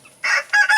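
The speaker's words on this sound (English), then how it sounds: "These are the Cornish Bantam. These are the tiny ones." Tiny Cornish Bantam chickens, around two pounds, letting out short, sharp clucks and a brief crow-like call, close by and loud in a quiet setting.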